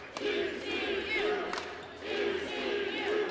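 Fans in a volleyball arena chant in a repeating rhythm for the GCU Lopes, the chant rising and falling in waves under a busy crowd hum.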